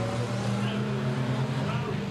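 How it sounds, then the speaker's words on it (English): Ford flathead V8 engine in an old Bugatti racing car at a historic track day, a steady loud droning rumble throughout, held at a constant pitch with no clear change. "This is a Ford powered Bugatti, flathead V8 engine, very fast"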